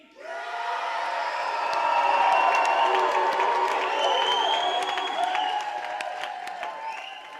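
A rap battle audience cheers and applauds for Mrs. Green: a dense, sustained roar of clapping, whoops and yells that swells over the first seconds and holds loud throughout, with no talk over it.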